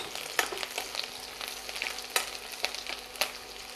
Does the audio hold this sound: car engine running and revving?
no